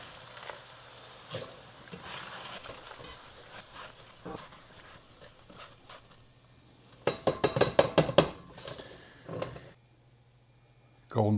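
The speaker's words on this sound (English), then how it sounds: "Listen to this sound. That tink sound means that they've got nice and crispy." Crispy fried potatoes tink and clatter against a pan in a quick burst of bright metallic clinks, preceded by softer kitchen handling noises and a low steady hum.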